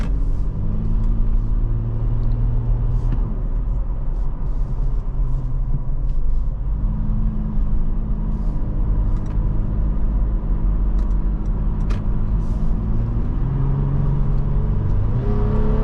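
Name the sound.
SUV engine driving, deep throaty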